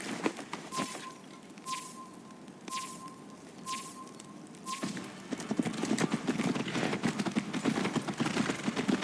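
Horse hooves in the video game Assassin's Creed Valhalla, a rhythmic clip-clop of galloping that quickens and grows denser halfway through, with soft clicking tones over the first few seconds.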